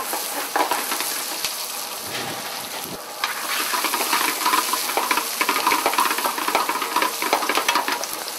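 Cooked potatoes and onions are tossed in a hot pan, giving a continuous close sizzle with clinking and stirring bursts that swell louder midway.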